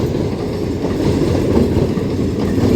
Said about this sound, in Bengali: এই ট্রেনটা এইদিকে যাচ্ছে, মানে যাচ্ছে হাওড়া